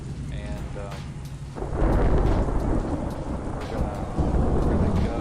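Heavy rain pours with a crack and rumble of thunder on the planet Dathomir in a Star Wars video game, the storm swelling louder partway through and staying dense and continuous.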